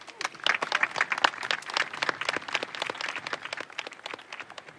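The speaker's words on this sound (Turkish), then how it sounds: "Alkış lütfen." A crowd applauds steadily with dense, lively clapping that holds for several seconds at a moderate distance, in a scene from a Turkish comedy film.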